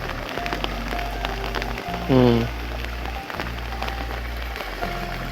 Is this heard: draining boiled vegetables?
no